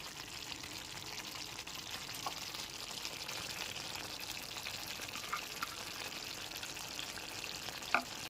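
Boiled new baby potatoes and chopped coriander are tossed in a pan for Bengali aloo dum, a steady soft sizzle with faint stirring scrapes and a small clink near the end, no talk.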